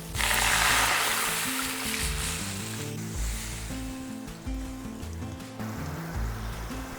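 Water used to rinse the spices is poured into a cooking pan of sautéed vegetarian gravy, a loud rushing hiss at first that settles into a steady watery wash under soft background music.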